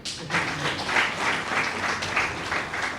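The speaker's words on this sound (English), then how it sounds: "Let's still clap." An audience at a national school results announcement applauds, with sustained, dense clapping from a sizeable crowd that holds steady for several seconds with no voices over it.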